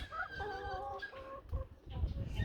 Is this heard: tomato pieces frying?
no